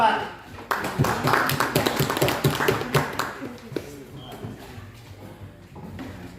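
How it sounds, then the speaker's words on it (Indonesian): Classroom students clapping for a student group during a mathematics lesson in Indonesia, a quick burst of close, uneven claps for about three seconds that fades into quieter room noise and voices. "Tepuk tangan buat kelompok 4."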